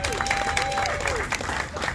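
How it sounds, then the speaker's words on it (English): Applause for a city council member at a public event, a crowd clapping steadily with a voice speaking over it. "Can we give her a round of applause?"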